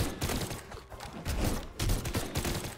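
Pistol gunfire in the video game Brawlhalla, a run of sharp bursts repeating at an uneven pace over busy game noise, loud and close, with no talk over it.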